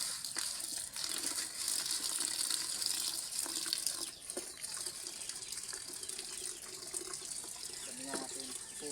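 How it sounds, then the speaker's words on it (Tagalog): Water runs and splashes steadily from a tap into a container of Jockey oats, a close continuous gush with a few faint clinks. "Lagyan natin ng tubig."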